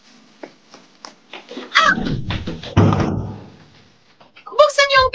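Someone bangs repeatedly on a locked door in a dramatized scene, loud thuds coming in bursts while a voice shouts over them.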